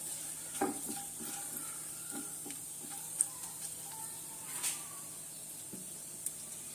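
Quiet, steady sizzling of spices frying in oil for mutton kothu curry, with scattered small pops and crackles, and occasional light stirring scrapes.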